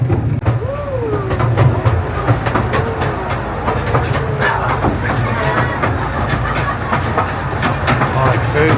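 A miniature train rattling steadily along its rails with rhythmic clicks and a low mechanical hum, with voices talking faintly in the background, at Blenheim Palace.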